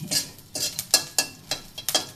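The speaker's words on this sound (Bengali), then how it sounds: "এখন এই চা পাতিটাকে দিয়ে দিলাম, এটাকে ভালো করে লাড়তে লাড়তে শুকিয়ে যাবে" Dry tea leaves are stirred and toasted in an oil-free pan, producing close, rhythmic scraping sweeps about every third of a second with no voices.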